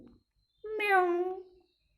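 A voice imitates a cat, giving a single drawn-out meow, rising then falling, for about a second in a quiet Hindi comic narration, with a brief murmur before it.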